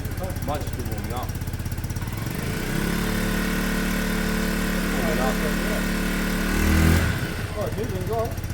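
A Peugeot Satelis scooter from a barn find, its engine idling with a steady low drone and a throttle swell near the end, close by with people talking over it.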